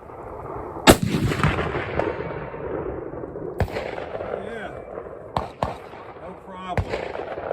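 Belgian Mauser in .30-06 fired outdoors at a distant silhouette target on a snowy-looking day; one sharp loud rifle shot with a long rolling echo, followed by a few fainter distant cracks and knocks.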